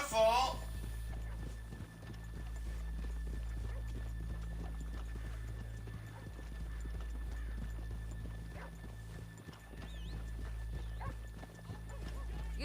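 Horses walking in the video game Red Dead Redemption 2, an even run of hoof clip-clops at a walking pace with a whinny at the start, over a low steady hum, with people talking throughout.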